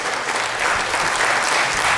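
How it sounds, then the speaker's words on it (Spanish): Church congregation applauding during a worship service, a dense, steady wave of many hands clapping together, loud and continuous for a couple of seconds. "El mejor aplauso a Jesús."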